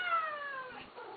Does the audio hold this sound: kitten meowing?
yes